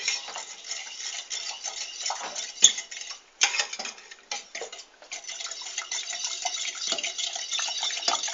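Spoon stirring rice flour and sugar into cold milk in a pot for keşkül, a continuous close scraping and clinking of metal against the pot with brief pauses, no voices.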